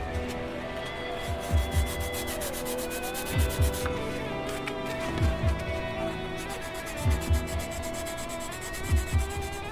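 A sanding block works over putty filling the gaps between photo-etch and the plastic hull of a 1:350 Enterprise refit model, giving a continuous close scratchy rub with rhythmic heavier strokes about every two seconds.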